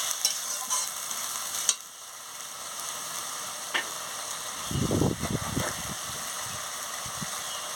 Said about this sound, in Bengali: নাড়িয়ে নিচ্ছি দেখুন আপনারা দেখতে থাকুন কেমন ওল ডাঁটা রান্না করছি